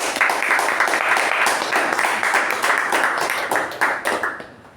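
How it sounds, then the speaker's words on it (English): Audience applause for a speech at a Toastmasters club meeting: dense, steady clapping from a roomful of people, loud and sustained, then tapering off at the end. "Let's give a round of applause for that."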